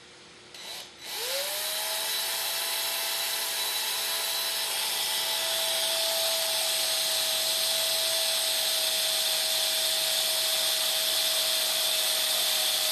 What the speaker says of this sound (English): Now it's time to drill our hole.